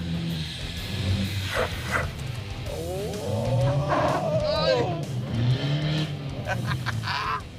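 A winter beater car's engine revs up and drops as gears are shifted, with a rising and falling whine in the middle, under excited voices talking and shouting throughout.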